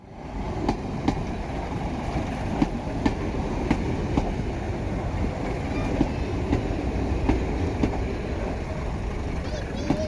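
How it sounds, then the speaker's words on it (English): A diesel multiple unit pulls into a station platform at a heritage railway steam gala, a steady rumbling roll with regular clicking wheel beats, while a voice speaks over it. "as the DMU pulled in on the down platform"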